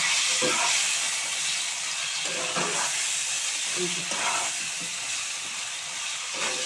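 Ingredients for a rui fish curry fry in a pan with a steady hissing sizzle, with soft clinks and stirring knocks at intervals throughout.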